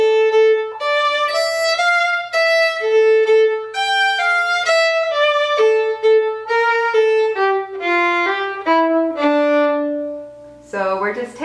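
Solo fiddle plays the second half of the B part of a fiddle tune, a steady run of clear bowed notes with slides, close and loud, ending on a held note with a bow flourish.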